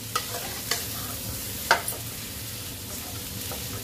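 Bitter gourd pulp being stirred into potatoes in a frying pan, a low steady sizzle with a few sharp scraping clicks of the spoon, close and alone without talk.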